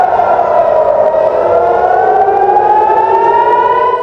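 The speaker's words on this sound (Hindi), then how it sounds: "अचानक से हाई अलर्ट का सायरन बजता है" A loud civil defense high-alert siren wails continuously during a rocket attack warning in Rafah, its tone rising slowly and steadily, with no voices.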